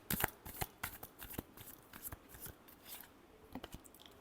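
Tarot cards are shuffled by hand in a soft, quick series of papery riffles and taps, close and quiet, with no talking.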